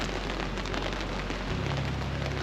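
Steady rain patters on a tarp at a winter camp on a solo sea kayak trip, a dense, even hiss close by throughout with no voices.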